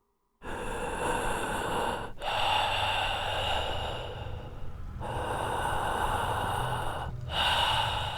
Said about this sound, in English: the heavy breathing returned